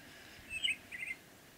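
Two quick bursts of bright bird chirps in the South Park video game, close and clear over a quiet background, with a short pause between them.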